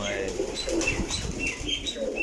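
A large flock of around three hundred pigeons, fluttering wings and soft cooing close by, irregular bursts of flapping with a voice talking over them.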